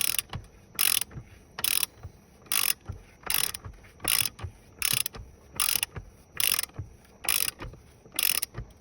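A ratchet torque wrench tightening the front sprocket on a Yamaha MT03 motorcycle gives sharp, close metallic clicks in a steady rhythm, about sixteen bursts evenly spaced with brief pauses between.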